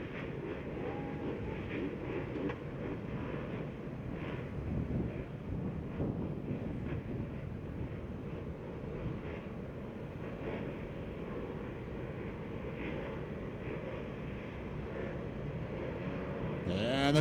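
Several motocross bikes idling and revving at the starting gate before the Open Pro Sport final at Mammoth, a steady, continuous engine drone held throughout, without pauses or talk.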